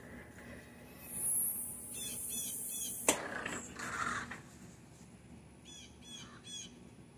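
Ravens give repeated harsh squawking calls as a hawk chases one of them outdoors, with several loud croaks early on, a sharp sound near the middle, and fainter calls and chatter afterward, no voices.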